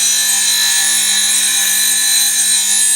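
A blade pushed up a spinning sharpening wheel gives a steady, loud high-pitched grinding hiss, continuous and unbroken with a faint low motor hum beneath.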